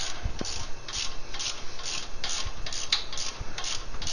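A valve spring compressor is cranked down on an LS engine, giving a close, rhythmic rasping and ratcheting rub that repeats in short strokes, with faint mechanical clicks.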